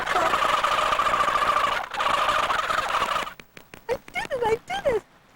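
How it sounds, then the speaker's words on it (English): Geese call in woods, a burst of sharp honking cries after a stretch of steady noise, fairly close and loud. "those are geese."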